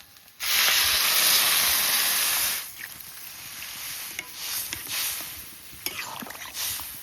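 Water poured into a hot pan of rohu fish curry with grated ginger and elephant foot yam bursts into a loud, steady hiss, then settles into quieter bubbling and sizzling with faint stirring.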